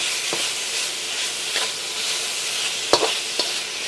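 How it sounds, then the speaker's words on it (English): Pork frying in peanut oil with garlic gives a steady, close, full hiss of sizzling oil, broken by a few soft stirring clicks. "Okay, so now we're just gonna cook our pork. And I got peanut oil in here"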